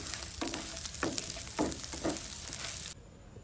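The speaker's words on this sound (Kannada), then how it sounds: "ಈಗ ಸ್ವಲ್ಪ ಮಾಡೋದ್ರಿಂದ ಎಲ್ಲ ಒಟ್ಟಿಗೆ ನಾನು ಫ್ರೈ ಮಾಡ್ತಾ ಇದ್ದೀನಿ" Pepper and coriander seeds dry roasting together in a pan for Mangalorean kingfish curry spice, a steady close frying hiss with soft periodic scraping strokes, cutting off abruptly near the end.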